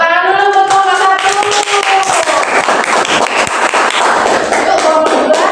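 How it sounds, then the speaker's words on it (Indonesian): Children in an elementary school classroom clap for group 1 after its presentation, a loud close burst of dense clapping with a brief voice over it at the start. "Oke, tepuk tangan dulu untuk kelompok 1."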